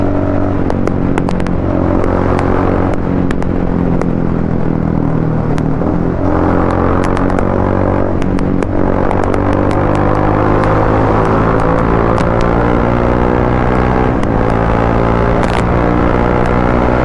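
A Triumph Speed 400 motorcycle engine drones loud and steady while riding, with a rumbling exhaust that shifts in pitch as the throttle rises and eases, under constant wind buffeting and no voices.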